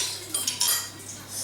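A spoon scrapes and clinks lightly against a baking dish while spreading tomato sauce over stuffed eggplants. It gives a few soft, close metallic taps and a scrape within a brief moment.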